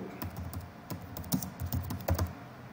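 Keystrokes on a computer keyboard while entering a shear plate connection in structural design software, a quick irregular run of clicks at close range with no talk.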